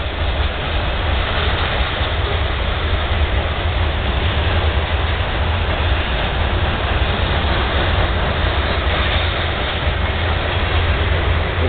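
Freight train rolling past continuously and loud, a steady broadband rumble of cars on the rails with faint clickety-clack, heading toward Houston, lasting the whole stretch with no talk.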